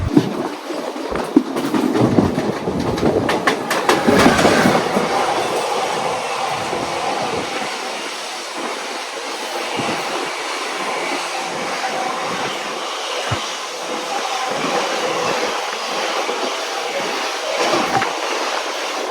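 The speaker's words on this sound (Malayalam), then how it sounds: "രണ്ട് വെസ്റ്റ് കോസ്റ്റ് എക്സ്പ്രസ് നമ്മളിപ്പം കണ്ടുമുട്ടിയാണ് നിങ്ങളിപ്പോൾ കണ്ടത്." Two West Coast Express trains passing each other on an Indian railway line, with a loud rushing roar and rapid clattering wheels at first that ease into a steady, lower rolling rumble of the carriages for the rest of the stretch.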